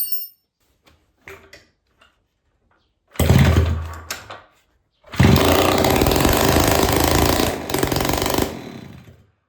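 A rebuilt moped engine with a freshly assembled carburettor and points ignition sputters through a few failed kicks, briefly catches, then starts and runs loud and rattly, revving unevenly close by.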